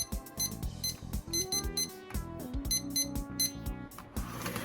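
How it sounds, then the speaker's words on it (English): Short, sharp electronic button beeps from an Oregon Scientific WR196T weather radio come from a tiny internal speaker, repeating in quick bursts over a steady tone from the radio's main speaker. "the button beeps don't come from the big speaker on the front"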